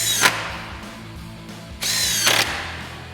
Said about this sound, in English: And we'll get our two 10mm screws back in up top.